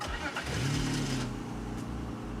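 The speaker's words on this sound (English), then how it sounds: "Let's start the engine and show you what it sounds like." An old BMW 7 Series six-cylinder engine cranks briefly, catches and settles into a steady low idle, heard close up.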